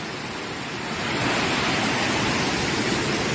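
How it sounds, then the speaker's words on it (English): Swollen river floodwater after heavy rain in Trinidad rushes toward a residential community, a dense, steady roar of churning water that grows louder after the first second and holds close and continuous with no voices. "this here is flowing into the community of Woodland"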